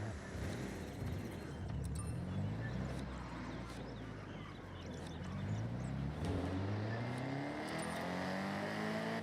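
Engine of a car driven in Forza Horizon 6 rumbles and revs steadily, with rising and falling gear sweeps and occasional passing traffic, loud and continuous throughout.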